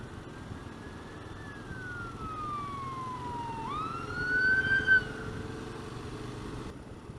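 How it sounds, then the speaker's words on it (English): An ambulance siren wails in the distance, its tone sliding down and then rising again, over a steady rumble of road noise from a KLR 650 motorcycle near a pit in Bisbee, Arizona. "And here comes an ambulance."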